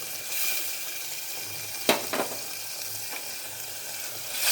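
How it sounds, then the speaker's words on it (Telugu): Masala frying in oil in a pan for a drumstick and brinjal curry, a steady close sizzle with a couple of sharp spatters and stirring scrapes. "ఆయిల్ అయితే పైకి తేలేంత వరకు మసాలా వేగాలి."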